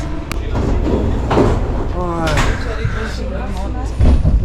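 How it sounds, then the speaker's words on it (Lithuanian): A Paris metro train rolls along during the 2024 Olympics with a steady low rumble and rail clatter filling the car, and voices talk over the running noise throughout. "Vaizdas pro metro."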